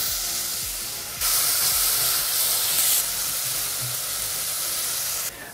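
Onion, garlic and ginger hit a hot pan and sizzle in a loud, steady hiss that jumps up as they go in and holds, cutting off near the end.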